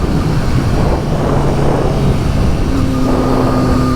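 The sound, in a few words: Triumph Street Triple 765RS motorcycle engine accelerating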